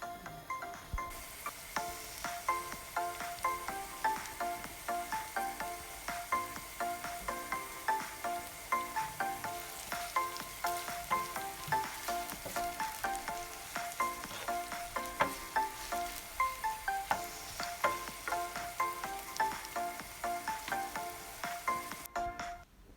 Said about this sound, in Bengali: আর তেলটা একটু গরম হয়ে গেলে কি আমি এটার মাঝে পেঁয়াজ কুচি রসুন কুচি দিয়া